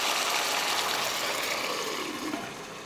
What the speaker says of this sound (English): You want to add enough hot water so it covers one third of the dumpling.